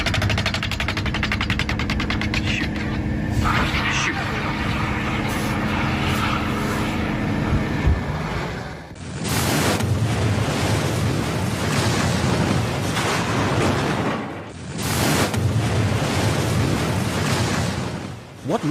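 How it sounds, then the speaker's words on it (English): Aircraft engine roar from a staged plane crash filmed for a movie scene, with a sustained drone and then two loud bursts from the fake explosion and fire, filling the recording with dense, roaring noise and no speech. "What looks like a deadly plane crash is actually a carefully staged movie scene. The explosion is fake"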